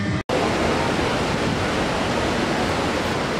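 Waterfall in a plaza in Seoul, a constant loud rushing wash of falling water that runs on unbroken.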